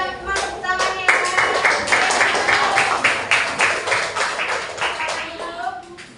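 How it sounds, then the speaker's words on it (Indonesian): Students in a classroom clapping for a group presentation: brisk, fairly loud clapping from a small group, with some individual claps standing out and a rhythmic pulse running through it. "Bagi teman-teman tepuk tangannya."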